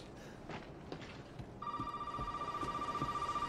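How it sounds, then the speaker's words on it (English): A telephone rings in the Resident Evil 7 video game, a steady electronic ringing tone starting partway through over quiet, dim ambient game sound. "Oh, I got a phone call."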